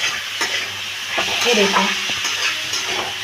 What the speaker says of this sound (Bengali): এরকমভাবে চিকেনগুলোকেও আমি একটু ভেজে নিচ্ছি।